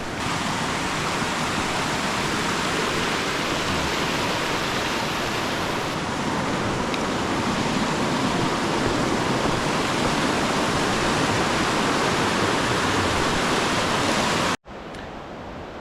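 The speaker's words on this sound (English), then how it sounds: "It's a beautiful river." Steady broadband rush of flowing water, loud and continuous like a river close by, cutting off abruptly near the end to a quieter hiss.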